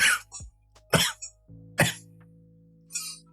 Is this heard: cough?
yes